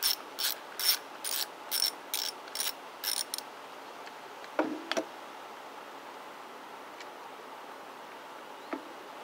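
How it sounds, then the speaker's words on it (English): A vintage Craftsman ratchet clicks through about eight quick bursts of close, bright pawl ratcheting, then stops, leaving a couple of faint metallic knocks over a quiet background hiss. "Using our vintage Craftsman ratchet."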